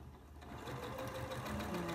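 A sewing machine runs a straight seam through fabric scraps for a quilt, its motor whirring in a steady, close hum that rises slightly in loudness as stitching speeds up.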